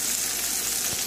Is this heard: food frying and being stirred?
yes